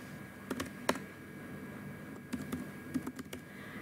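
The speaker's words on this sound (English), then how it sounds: "See, I just pressed the enter button and it just simply adds your entry over here." Computer keyboard keys pressed while entering data in an Excel form, including tab and enter, giving a handful of sharp, close clicks in small irregular clusters over a quiet background.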